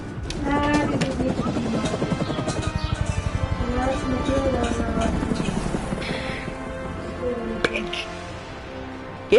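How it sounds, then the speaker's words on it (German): A video game helicopter's rotor chops in a rapid, steady pulse that speeds up and then fades, heard under someone talking. "ich flüchte jetzt mit dem Helikopter"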